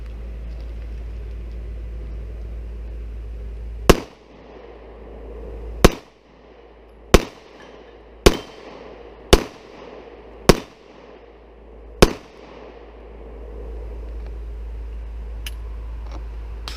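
A Glock 43 9mm pistol fires seven sharp, loud shots at uneven intervals of about one to two seconds over a low outdoor rumble, with a couple of faint pops afterward.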